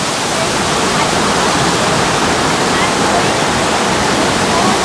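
Rain-swollen Kothapally waterfall rushing over rocks with fresh mountain water, a powerful, even, continuous roar filling the scene from very close, with no clear voices.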